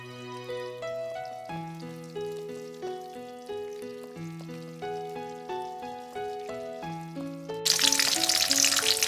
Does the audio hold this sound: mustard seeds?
yes